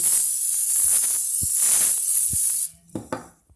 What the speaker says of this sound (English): you're going to take this spray and you're going to spray your bowl.